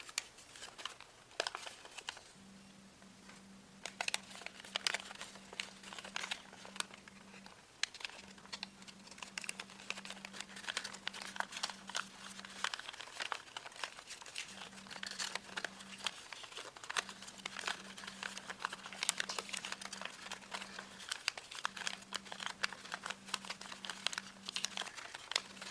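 Soft rustling and crinkling of origami paper being folded and creased for a cross, quiet close handling with intermittent taps, under a steady low hum.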